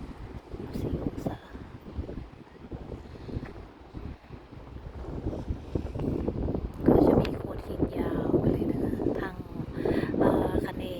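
Wind buffets the microphone in gusty rumbles along the seashore at Saint-Cyprien, with surf and someone talking now and then.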